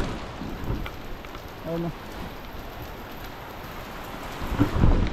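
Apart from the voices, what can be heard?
rain falling during a typhoon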